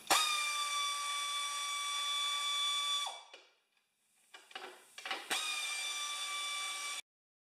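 A power driver fitted with a 7/16 socket runs bolts into a welded wagon: two sustained, steady whirring bursts, close and loud, separated by a pause of light clanks and handling.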